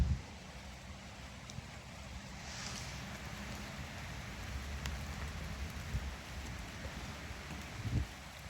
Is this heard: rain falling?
yes